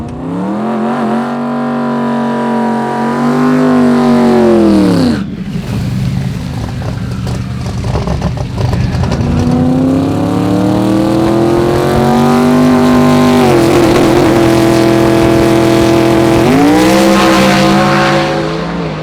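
A loud drag race car engine revs repeatedly at a drag racing event, pitch climbing and dropping in sweeping waves, with a brief cut near the middle before it roars back up.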